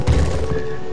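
A spell strikes a boulder in a Harry Potter Sorcerer's Stone video game, giving a single short, loud, booming thud that rings briefly.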